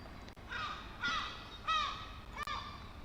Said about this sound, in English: to the cacophony of some seagulls that are nearby us